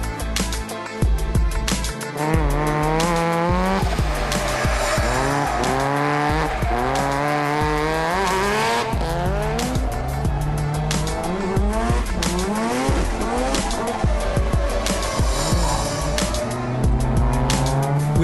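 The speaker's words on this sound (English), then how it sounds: "the way it just fries any tyres you put behind it" A powerful modified car is driven hard at Oran Park raceway, its engine roaring loud and continuous while the tyres squeal and fry through repeated skids, rising and falling in pitch.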